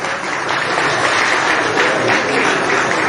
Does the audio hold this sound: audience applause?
yes